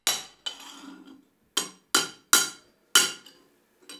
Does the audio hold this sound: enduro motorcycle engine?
no